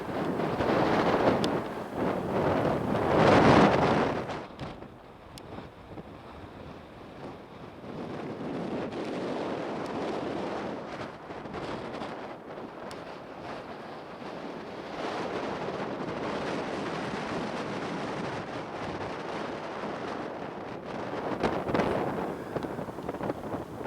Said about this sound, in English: You don't mind this wind one bit, do you?